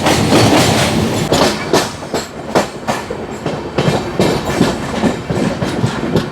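Balurghat–SMVT Bengaluru Express running near Farakka Junction, heard from on board: loud, steady rumble with rhythmic clickety-clack wheel beats over rail joints, no voices.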